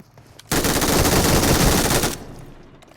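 A sustained burst of automatic gunfire in a shooter video game, loud and dense for about a second and a half, then cut off abruptly with a brief fading tail.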